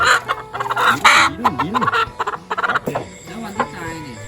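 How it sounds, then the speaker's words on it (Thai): A free-range village hen at a remote rural Thai garden home clucks repeatedly up close in short, rising-and-falling bursts, with faint background noise. "มาสัมภาษณ์แม่ไก่"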